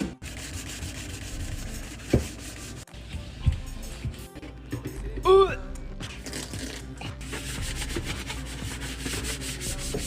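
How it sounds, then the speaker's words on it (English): A brush or pad scrubs a surface during cleaning, with close scratchy strokes and a few thumps, while voices and music play over the top. "Time to scrub."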